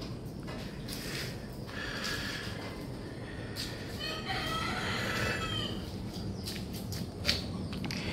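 Chickens cluck and a rooster crows in a small backyard after a typhoon, the calls moderately close over steady background noise, with repeated bursts spread through the scene.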